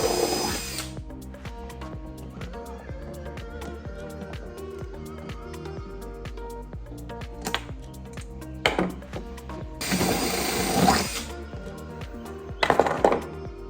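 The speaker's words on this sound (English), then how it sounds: "I'm going to drill a hole through here" A power drill whines steadily with a buzzing hum, briefly interrupted by louder grinding bursts as it bites through aluminum angle, ending with short clinks.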